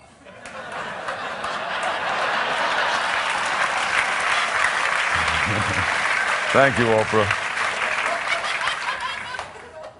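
Television studio audience applauding a guest's entrance on a talk show, steady dense clapping throughout with scattered cheers, while a voice briefly speaks over it midway.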